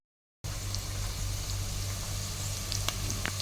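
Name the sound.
coriander and cauliflower frying in oil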